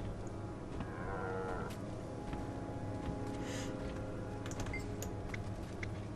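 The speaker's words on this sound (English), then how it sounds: "Seems like everyone wants to poke around my cows today." Cattle mooing in the Guild Wars 2 video game, a few low lowing calls over a steady game ambience, with no talk.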